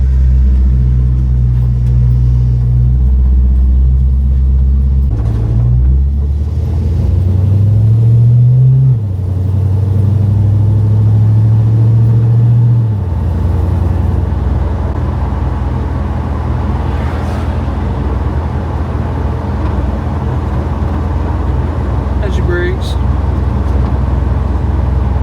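A drag car on its first drive after a full build, its engine rumbling loudly and steadily, with a rising rev near the middle and a continuous low road drone throughout.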